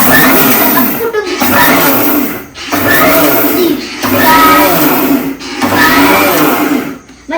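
A kitchen mixer grinder whirs loudly while grinding raw mango for pickle, running in several short bursts of roughly a second and a half each, separated by brief pauses where it stops and restarts.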